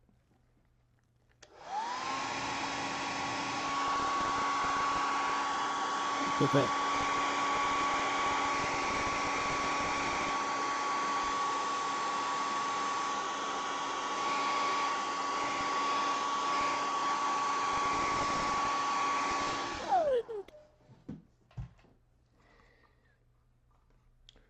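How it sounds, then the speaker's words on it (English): A hairdryer blasts steadily for about eighteen seconds, drying paint on a hobby shadowbox, with a loud constant whoosh and whine that starts abruptly, then cuts off and winds down, followed by light handling noises and a brief spoken word. "Just using a hairdryer to speed up the process here"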